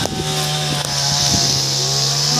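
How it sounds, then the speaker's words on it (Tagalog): Chainsaw cutting mango tree branches outdoors on a farm, a loud, steady buzzing motor whine close by with brief bites and revs as the chain works through the wood, no talking. "Ang mangga sinisimula ng tabasin."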